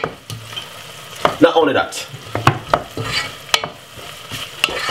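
Garlic sizzling in hot oil in a pan while being stirred, ahead of vegetables going in for sweet potato soup: a steady close fry with repeated scraping and clinking stir strokes, and a voice briefly speaking over it.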